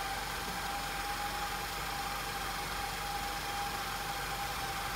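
Audi TFSI direct-injection engine with an intake air leak and a higher-than-expected idle speed, running steadily with a constant hum and a faint high whine throughout, close and alone.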